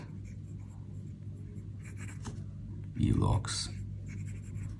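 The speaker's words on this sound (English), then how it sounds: "Really no pressure, it just glides through the paper." A Diplomat fountain pen glides across excellent paper, its soft nib scratching faintly under steady close talk, with one louder stroke near the end.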